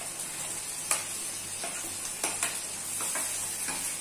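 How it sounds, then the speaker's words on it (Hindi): Onion and potato roast and sizzle in a pan for veg fried rice, a steady frying hiss broken by a few sharp pops and stirring scrapes, fairly close and with no speech. "और इसे हम रोस्ट करेंगे, और प्याज के साथ ही मैं इसमें ऐड करने वाली हूँ एक छोटा सा आलू मीडियम साइज का।"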